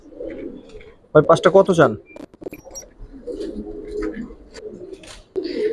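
Giribaz pigeons in a loft give soft low cooing in short bursts, with someone speaking close by over them and a brief jangle partway through.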